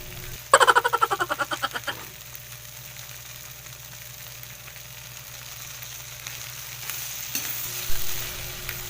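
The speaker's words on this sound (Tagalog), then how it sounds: "haluin lang nating mabuti para hindi masunog guys" Tokwa sisig with mayonnaise is stirred while it fries. A quick burst of rapid metallic clanks opens, then an even sizzle carries on, with a couple of louder knocks near the end and no talking.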